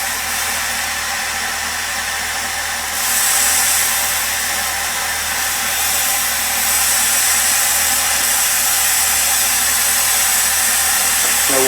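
A lathe cuts steel at about 400 rpm on a 30-thou pass while a connected air blast blows across it, making a loud, continuous broadband hiss that holds for the whole stretch with no talking.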